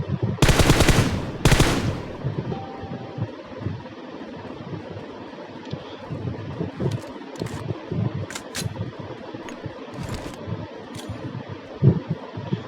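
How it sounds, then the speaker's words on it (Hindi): Automatic gunfire in PUBG aimed at a sniper tower gate, two loud close bursts at the start, then scattered fainter shots and clicks over a windy, fan-like background. "तो मैं ऐसे ही रैंडम फायर करने लग जाता हूँ, अपनी एमो वेस्ट करता हूँ"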